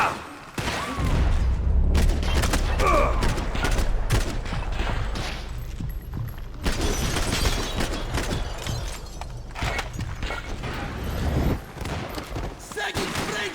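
Dense gunfire bursts and rapid shots in a Max Payne 3 firefight, loud and continuous across the scene with overlapping battle noise and shouted voices in the mix.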